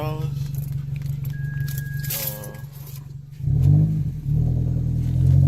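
A Mini Cooper S engine fitted with a blow-off valve revs up loudly after people talk over a low idle, the roar building and holding near the end.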